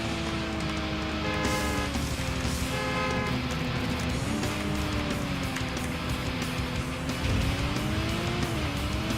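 Cars racing in the video game Crashday: Redline Edition during a checkpoint race, with steady engine drone, shifting pitch and tire squeals, loud and continuous throughout with no talking.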